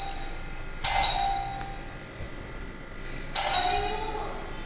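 A doorbell at the door of a sister's room rings twice, about two and a half seconds apart. Each chime is bright and clear and fades slowly over a quiet background, with no talking.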